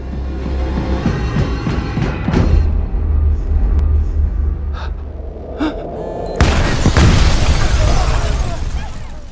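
An explosion erupts in a room in an action film, arriving as a sudden loud burst that follows earlier gasps and tense scoring.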